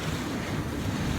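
Steady wind rushing across a microphone at a North Wales fishing spot, a continuous broadband roar with surf-like washing underneath, loud and unbroken throughout with no voices.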